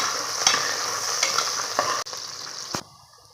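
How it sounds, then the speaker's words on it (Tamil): Onions sauté steadily in a hot pan for chicken kuzhambu, with a few sharp scraping stir strokes, then the sizzle drops away near the end. "இது நல்லா வதங்கிட்டோம், வெங்காயம் நல்லா வதங்கிட்டோம்."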